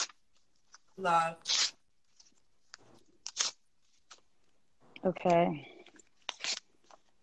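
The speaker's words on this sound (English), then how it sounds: "let me rip it and burn it." Paper being ripped by hand in several short, crisp tearing bursts, close and fairly quiet, with a person speaking briefly between the tears.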